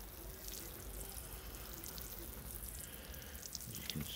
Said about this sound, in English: Gently water them in.